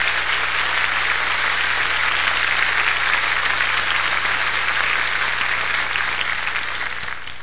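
A theater audience at a family Christmas variety show gives a big round of applause, steady, loud and full throughout, with a low hum underneath and a slight fade at the end.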